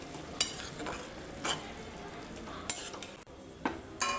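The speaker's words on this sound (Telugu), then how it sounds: "సో ఒకసారి తీసి అయితే కలుపుకున్నాను." Paneer curry stirred in a pan with a spoon, soft scraping strokes and a few sharper clinks against the metal over a faint sizzle, close and fairly quiet, no voices.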